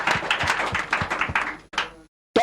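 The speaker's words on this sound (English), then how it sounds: "Make we clap for Accountant General." People in a radio studio during the Brekete Family programme clap for the Accountant General: about eight distinct, rhythmic hand claps close by, then a short pause and a final burst of clapping.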